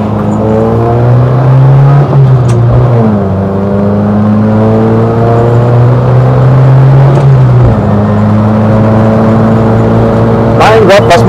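A classic Volkswagen rally car brakes into a muddy corner, its engine droning loud and close and dropping in pitch through the gear changes before pulling away again.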